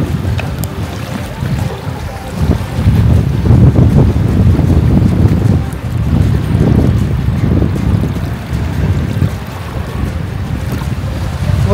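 Loud, constant rush of a swollen river's water churning under heavy wind buffeting the microphone, with no pause throughout.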